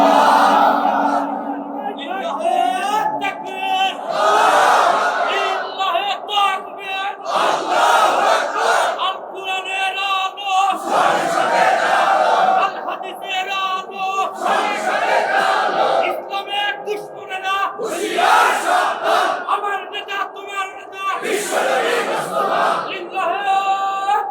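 A large crowd at a Bangla religious sermon gathering answering a call for takbir, with repeated swelling waves of loud collective chanting and shouting rising and falling over several cycles.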